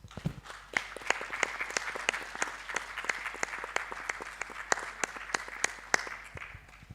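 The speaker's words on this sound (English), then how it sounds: "Let us please appreciate clapping hands." Scattered audience applause at an education-for-sustainable-development conference, individual hand claps distinct and fairly sparse, moderately close, steady through the whole stretch with no talk.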